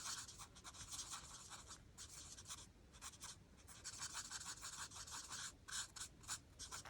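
Scissors snip and rasp through a paper coin charm in a steady run of short, quiet cuts, close up with no talking.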